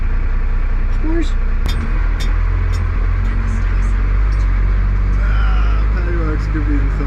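A 1983 truck engine runs steadily while driving, a loud continuous low rumble with road and cabin noise throughout, with faint voices briefly heard over it.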